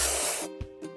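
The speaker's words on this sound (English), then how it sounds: "Drag the paint gun over the stain to paint it over." A paint gun in a children's video game lets out a bright, loud spray hiss for about half a second, followed by two short, softer puffs.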